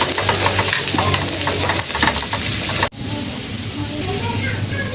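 Garlic and onion frying in a pan, a loud, dense sizzle that continues steadily throughout with stirring noise, and a brief cut partway through.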